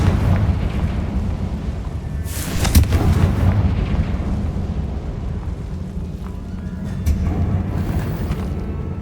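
In Hogwarts Legacy, a Confringo fire spell sets off explosive booms: a deep rumbling blast with a sharp burst near the middle and a smaller one later, amid low game ambience.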